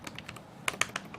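Quick bursts of keystrokes clatter on a computer keyboard while code is typed, an uneven run of close, crisp taps in a quiet room.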